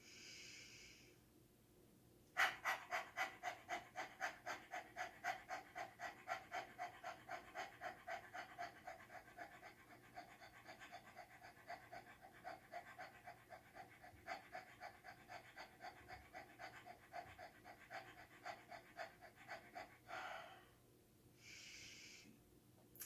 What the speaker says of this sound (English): Breath in, out to clear.